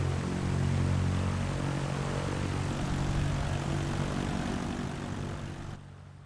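A propeller aircraft engine drones loud and steady as the plane prepares to taxi at night in Microsoft Flight Simulator, then drops off sharply near the end.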